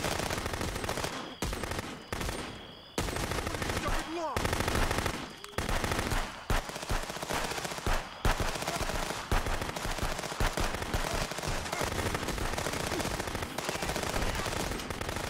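Gunfire in Contraband Police, during a fight at a sawmill: loud, rapid automatic bursts and scattered single shots, nearly continuous and broken by brief pauses.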